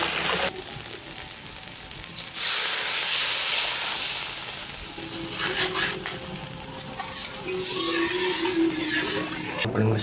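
Fish frying in hot oil gives a loud, steady sizzling hiss, with sharper bursts as pieces are turned, heard up close and alone.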